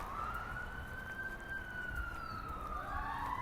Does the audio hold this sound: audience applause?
no